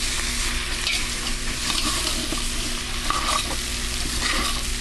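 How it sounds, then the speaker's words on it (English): Onion, celery, garlic and mushrooms being stirred in a pot for beef stew, a steady close scraping swirl over a continuous soft sizzle with no talking. "Give that a good stir."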